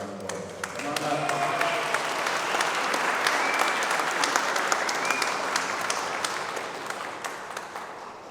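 Steady audience applause at an award ceremony during an honor unveiling, dense and even throughout, with brief voices mixed in.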